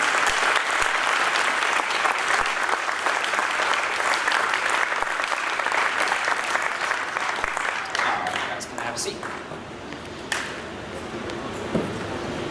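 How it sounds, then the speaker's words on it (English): An audience at a middle school spring band concert claps for students with superior solo ratings, a long steady wave of applause that thins out near the end as a voice begins speaking over it. "big round of applause for our solo superior ratings."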